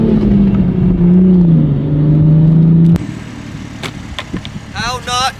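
A Toyota A90 Supra fitted with a Ford 8.8 limited-slip differential launches hard, its engine holding a loud, wavering high rev for about three seconds before cutting off, followed by quieter mechanical clunks and a brief whining rise near the end.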